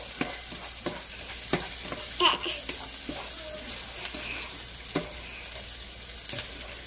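Garlic frying in a pan for chicken curry, a continuous soft sizzle broken by repeated scraping stirs and light clinks of a utensil, moderately close.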